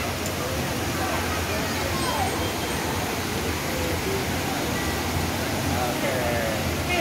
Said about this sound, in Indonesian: bisa menyaksikan panorama air terjun Bantimurung ya